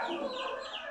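A mother hen walking with her chicks gives soft, short clucks and high peeping calls, faint and brief, with no voices.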